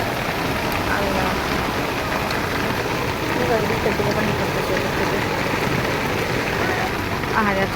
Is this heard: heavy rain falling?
yes